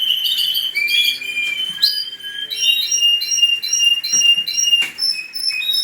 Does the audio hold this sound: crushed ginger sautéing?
no